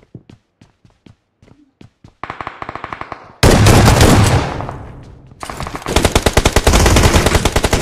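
UMP45 submachine gun fire in a mobile shooter game played on a Poco X3 Pro: sparse single shots at first, then loud rapid automatic bursts in rhythmic rattling strings, with a heavy blast between them.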